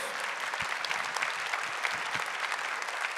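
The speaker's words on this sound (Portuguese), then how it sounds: "Vamos aplaudir esse homem que está na glória de Deus." An audience at a Catholic religious gathering breaks into sustained applause, a dense, steady clatter of many hands clapping that continues evenly throughout at moderate distance.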